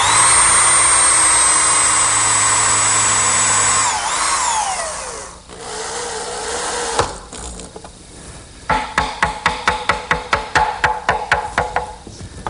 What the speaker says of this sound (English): I'll just attach that with some screws